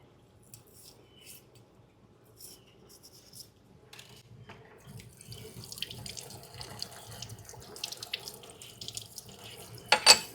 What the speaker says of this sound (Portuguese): Deixa eu botar mais quentinha aqui a água pra vocês.